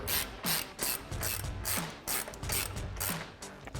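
A 1/2-inch ratchet with a 22 mm socket tightens the front lower control arm bolts on a 2016-2023 Toyota Tacoma, giving about eight rapid bursts of loud, close clicking at a steady rhythm, with no talking.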